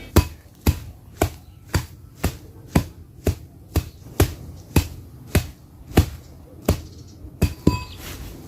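Charcoal dust and anthill soil get pounded to break up big particles, about fifteen sharp thuds at a steady pace under a second apart, close and distinct against a quiet background.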